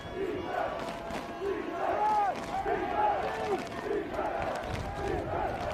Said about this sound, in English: The crowd that's here is making some more noise.